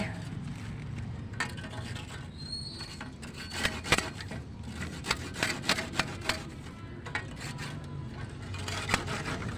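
A hand saw cuts through a small piece of wood in uneven rasping strokes, with sharp scraping bursts standing out against a faint background.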